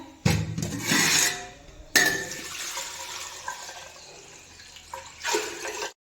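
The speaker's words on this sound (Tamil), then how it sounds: "இப்போ நம்ம சாதத்துக்கு தேவையான தண்ணியை ஊற்றிடலாம்" Water poured into a pot for cooking rice in a home kitchen, a few splashing pours with short pauses between them, close and fairly loud, with no talking.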